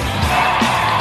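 A home football crowd roars a rapturous welcome as a player comes onto the pitch, a dense, continuous wash of cheering and yelling.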